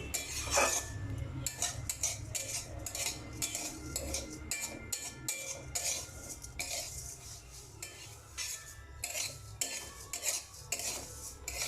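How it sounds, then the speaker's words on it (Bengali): Vermicelli is fried and stirred in ghee, with quiet clinks and scrapes of a utensil against the pan repeating in an uneven rhythm over a soft sizzle, faint and close. "এবার সেমাইটা ঘিয়ে খুব সুন্দরভাবে ভাজতে থাকবো"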